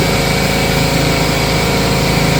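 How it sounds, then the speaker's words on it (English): A compressor runs nearby with a loud, steady mechanical drone and an even hum that does not change over the short stretch, and no one speaks. "I normally don't do this while the compressor's running"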